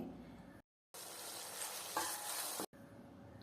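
Onions and tomato pieces being stirred as they soften in a pan: a faint, quiet sizzle with soft scraping, broken by two brief total dropouts.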